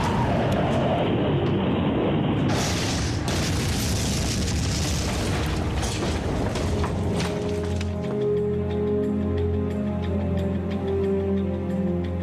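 A V2 missile explosion in wartime rings out as a loud, sustained boom with a rumbling blast, then settles into a low droning roar that continues to the end.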